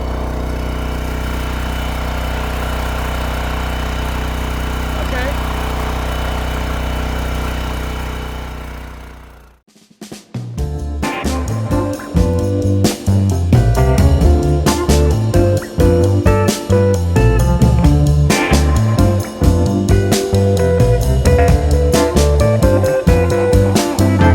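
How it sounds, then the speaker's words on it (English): A steady engine drone cuts out, then a louder, busier stretch of mechanical running follows as an engine-powered log splitter works on firewood after a snowstorm, a dense, continuous clatter to the end. "You can see the splitter now."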